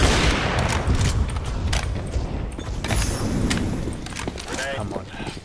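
Grenade blast and gunfire in the shooter game CSGO, loud bursts and booms spread across the stretch, with game voices and chatter over the firing.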